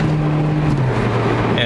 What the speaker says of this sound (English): If I get on it, it just takes off